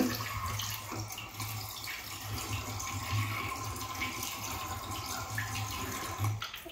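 A running tap used for rinsing face cleanser off at a sink, a steady faint splash and trickle of water continuing throughout with a low hum beneath, no voices.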